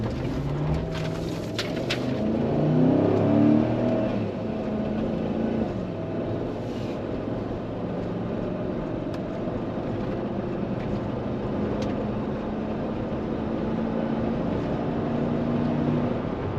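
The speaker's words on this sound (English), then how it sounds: "It's a pleasant exhaust sound." A 2011 GMC with Powergo Motorsports shorty headers and 220,000 miles runs steadily, giving a low, continuous exhaust rumble with a droning engine tone that holds even throughout.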